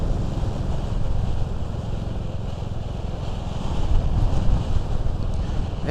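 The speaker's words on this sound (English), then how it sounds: "It's pretty breezy today." Wind buffets the microphone on a Royal Enfield Classic 350 motorcycle ride on a breezy day, a steady loud rumbling roar with gusts swelling toward the end, no voices.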